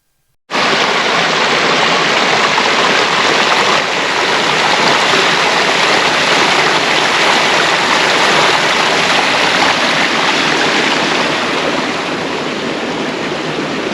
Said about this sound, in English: I'm going to turn my microphone off so that you can get the sound of the water